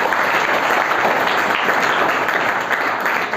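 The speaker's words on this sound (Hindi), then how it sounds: "एक बार तालियां बजा दीजिए।" Students at a 12th-grade career guidance program session applauding, a loud, dense, continuous round of clapping from a close crowd, filling the whole stretch without talk.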